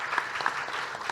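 At a Korean scientists' congress panel session, an audience applauds a panelist with steady, soft, distant clapping.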